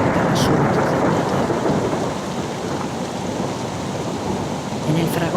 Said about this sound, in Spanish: la montaña retumba con el eco de la tormenta